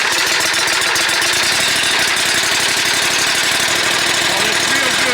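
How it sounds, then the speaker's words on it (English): Small EFI engine on a zero-turn mower starting up and settling into a fast, steady idle, a loud rapid chugging with a buzzy mechanical rattle close by, without speech. "we'll go ahead and start it up"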